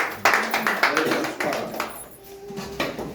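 A church congregation claps together in a steady rhythm of sharp hand claps, with voices singing or speaking along in the room.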